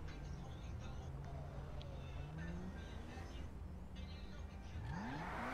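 Video game car engine revving with rising and falling pitch sweeps and a sharp climb near the end, heard fairly quietly beneath background game sounds.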